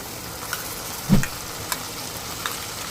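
Pork pieces drop into a hot pan for stir-frying: one solid thud of the meat landing, then a continuous crackling sizzle with a few small clicks of the pan, close by and without talk.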